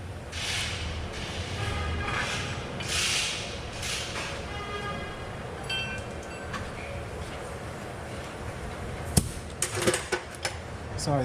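Several sharp metal hammer blows ring out on a rear suspension part of a Genesis GV80, clustered near the end over a steady background hum, with a faint voice now and then.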